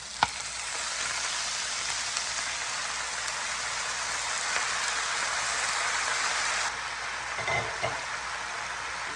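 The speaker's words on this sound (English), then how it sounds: "Now since it's been cooking and browned a little bit, I'm gonna put the spinach." Washed, still-damp spinach sautés in a pan with a steady, close crackling sizzle throughout, easing slightly near the end with a few faint clinks.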